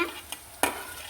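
Sliced green chilies for a fish pickle dropping into a pan, a brief faint patter followed by one sharper clatter and a short sizzle, with no talking.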